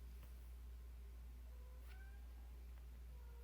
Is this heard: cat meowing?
yes